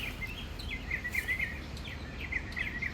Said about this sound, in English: We got one very happy bird up there, don't we?